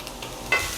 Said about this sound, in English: Saute this carrot on medium-high heat for about 3 minutes.